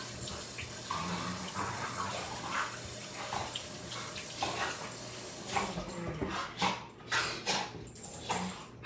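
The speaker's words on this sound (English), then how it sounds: "let me wash my hands again" Hands being washed under a running kitchen tap make a steady splash of water, close and moderately loud, while a dog whimpers and stirs nearby.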